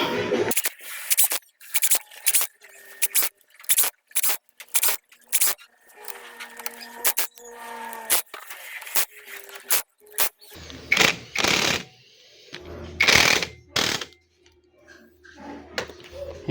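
Screws are fastened around the casing during assembly of a Kawasaki Fury 125 engine, heard as a series of short, regular clicks and ratcheting ticks, close and fairly quiet, with a voice speaking briefly near the end.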